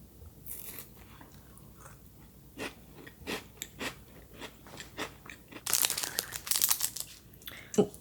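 Crunching bites into a salted caramel brownie chocolate bar, with sharp crisp snaps and chewing at close range, a quiet stretch first and then denser, louder crunches toward the end.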